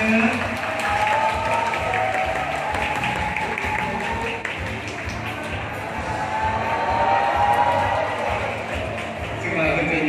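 An audience claps at a furniture store branch grand opening, steady applause filling the scene with crowd noise and a voice speaking over it throughout.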